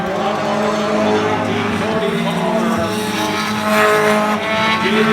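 Outlaw Division race cars circling Oyster Bed Speedway, producing a continuous loud roar of several engines with tire squeal as they work through the corners, and a commentator talking over the racing noise.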